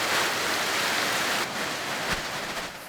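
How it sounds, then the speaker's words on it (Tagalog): Heavy rain pours steadily in a broad, continuous hiss during a flood at a school, with a brief sharper splash or thud partway through and no talking. "Habang naroon kami, bumuhos ang malakas na ulan"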